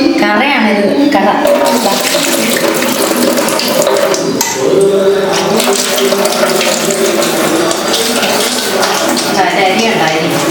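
Turkey berries are washed under running water, a loud close rush and splash with clattering as they are stirred and drained, continuing steadily throughout.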